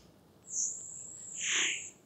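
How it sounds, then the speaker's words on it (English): A synthetic chirp produced by a neural network. Two bright, high tonal sweeps follow each other over a quiet background, and the second swoops downward and broadens. "So we can expect it to be some kind of chirp"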